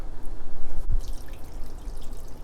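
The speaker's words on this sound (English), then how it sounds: "Now I'm going to add water right into this can to make sure I get all of the remainder." Water is poured from a tap into an emptied canned mackerel tin for kimchi stew, a close, bubbling trickle with drips and a gurgling splash, no talking.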